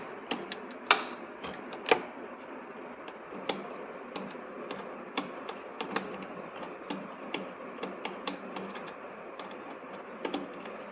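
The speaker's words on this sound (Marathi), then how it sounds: "आता आपण स्क्रूड्रायव्हरने कनेक्शन काढूया." A screwdriver loosens the connections on an AMSPA fuel dispenser power board, making faint, irregular small clicks and ticks at close range against a quiet background hiss.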